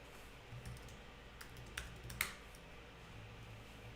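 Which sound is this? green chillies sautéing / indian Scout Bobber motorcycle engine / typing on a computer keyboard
typing on a computer keyboard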